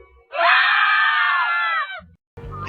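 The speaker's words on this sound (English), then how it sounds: "Scream." A long, sustained harmonic scream from an analog horror broadcast, loud and close, holding for about a second and a half before cutting off, followed by a brief thud and a burst of noisy sound.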